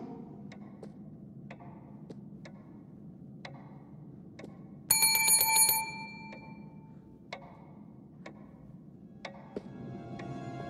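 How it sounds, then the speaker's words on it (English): A hotel front-desk bell in the horror game The Devil in Me rings once, bright and clear, for about a second before fading. Soft clock ticking runs underneath throughout. "Ring the bell."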